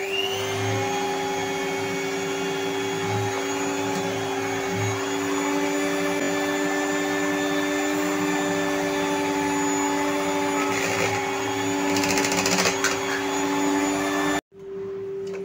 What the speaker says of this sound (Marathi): तर आता आपण हे फेटून घेऊया डबल होईपर्यंत